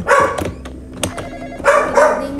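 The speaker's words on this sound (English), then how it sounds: "Oh my gosh. The dog." A dog barks a few times in the Roblox game Graveyard Shift, short loud yaps separated by pauses, with no talk over them.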